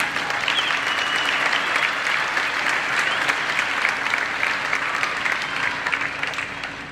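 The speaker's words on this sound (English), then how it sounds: "Can I get a verse of applause for you?" A graduation ceremony audience claps steadily in a large hall, a dense, even wash of applause that holds for several seconds and tapers slightly at the end.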